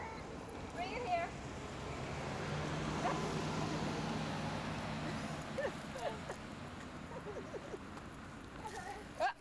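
A puppy outdoors gives scattered small yips and whimpers, faint and intermittent, while people talk over it.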